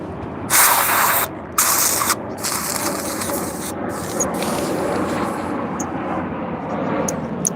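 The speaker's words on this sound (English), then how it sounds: "Blower." A blower pushes air in loud, close bursts of rushing hiss for the first couple of seconds, then settles into a steadier, softer airflow with faint mechanical rattles and no speech.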